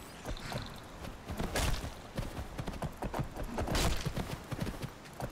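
Horse hooves clip-clop steadily in the fantasy game Skyrim, a dense run of close, loud hoofbeats with louder surges partway through and at the end, alongside scattered clatter and no speech.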